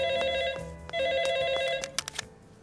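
An old-style telephone rings in a cartoon with a bright electronic trill in two bursts, followed by a short clatter as the receiver is picked up.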